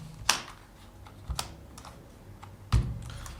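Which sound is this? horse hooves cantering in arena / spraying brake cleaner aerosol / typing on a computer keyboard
typing on a computer keyboard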